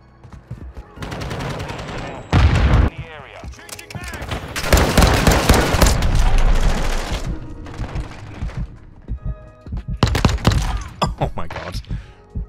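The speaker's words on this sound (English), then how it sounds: "This is just a pistol that ain't meant to be in the beta." Pistol gunfire in Call of Duty: Modern Warfare II, a secret one-tap pistol, sounding as loud bursts of shots in clusters mixed with other game gunfire and effects, with a player talking over it.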